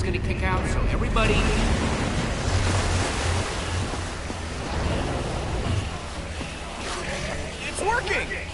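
In Minecraft: Story Mode, a machine gushes out a heavy torrent of water, a steady loud rushing wash that runs throughout with no break.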